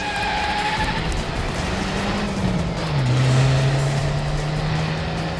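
A car engine hums steadily and then shifts to a lower, sustained drone as the vehicle pulls away, fairly loud with no voices over it.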